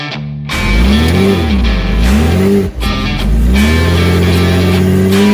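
A Porsche 986 Boxster's engine revs hard and close, climbing and dropping in repeated loud sweeps after a brief quiet start, with a short dip mid-way before winding up again.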